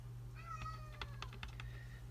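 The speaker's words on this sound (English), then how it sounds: "My son's cat is driving me crazy." A house cat meows a few short times, faint and somewhat distant, over a steady low electrical hum with light clicks around it.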